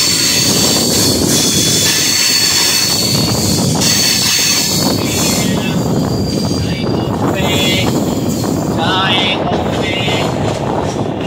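An express train runs on the route to Pune with a loud, continuous rumble and rushing wind roar from inside or beside the moving coach, with faint clatter and brief higher squeals toward the end.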